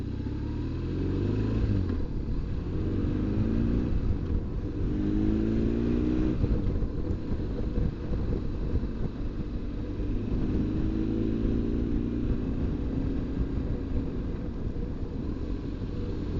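A BMW GS motorcycle engine hums steadily at low, relaxed revs, peaking around 4,500 rpm, while riding on a Scottish island road, with a constant rumble and wind noise throughout.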